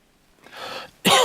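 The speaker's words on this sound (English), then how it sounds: "Ooh, and cough. You've got a nasty cough." After a soft breathy rasp, a single sharp, close cough bursts out.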